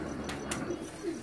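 Pigeons, Iraqi hybrid tipplers, coo softly on a rooftop in a short, low burst with a couple of brief chirps.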